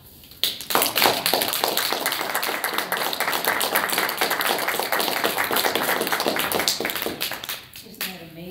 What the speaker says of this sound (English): We applaud when someone comes up to the podium, and we applaud until that person goes back and sits down.